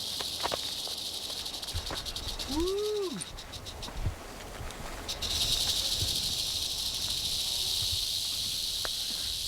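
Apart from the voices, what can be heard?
western diamondback rattlesnake rattling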